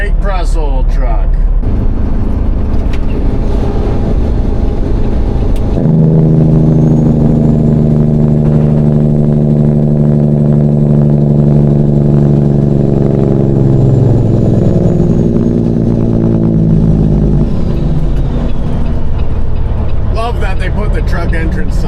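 A large truck rumbles past on a busy city street in the morning, a loud low engine drone swelling through the middle and fading away, with a person talking over it at the start and end.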